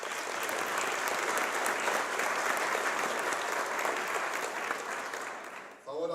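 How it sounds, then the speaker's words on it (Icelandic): Sustained audience applause at a vocational college graduation ceremony in Iceland, dense and steady for about six seconds before tapering off abruptly near the end. "ég bið ykkur að klappa"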